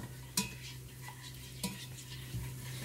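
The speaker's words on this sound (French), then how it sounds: "je tourne comme ça pour ramollir et mélanger" A utensil stirs flour into cold water in a bowl, making soft steady scraping with a few faint clinks against the side, quiet and close.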